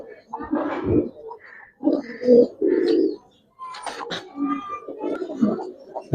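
Giribaz pigeons at a pigeon sale coo in short, throaty bursts close by, mixed with voices of people talking and bargaining around them.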